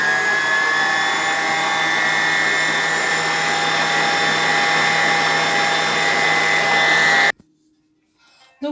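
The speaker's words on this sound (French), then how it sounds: "je vais aller mettre ceci à pétrir avec le robot. Donc là, je vais commencer à pétrir." Stand mixer kneading pizza dough, a loud steady motor whir with a constant pitch that stops abruptly near the end, leaving near silence and a faint noise.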